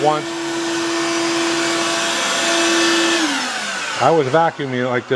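A vacuum cleaner runs loud and close with a steady whine as it is worked around the three-jaw chuck of a lathe, then a voice speaks over the motor near the end.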